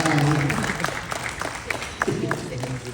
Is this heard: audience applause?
yes